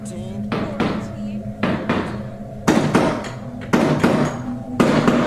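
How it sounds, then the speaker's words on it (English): Loud heavy banging on a door, a series of forceful thuds in irregular groups of two or three, each ringing briefly, standing alone and close. "he then starts hearing loud banging from a door"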